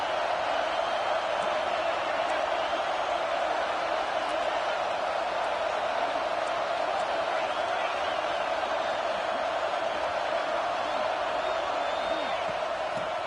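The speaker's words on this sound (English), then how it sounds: "the crowd coming to life here, trying to help this defense down in the red zone" Fans fill the stands at a college football game with a broad, steady roar that holds at an even level from start to finish, sounding large and somewhat distant.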